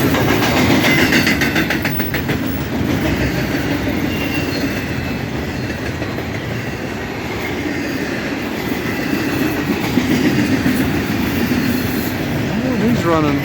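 Railroad cars roll past on the tracks at Morgan, Utah, a loud, continuous rumble with rhythmic wheel clatter and a rising squeal toward the end.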